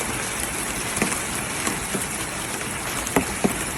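Light rain patters steadily on a garden in sunny California, a soft continuous hiss broken by a few sharper drops near the end.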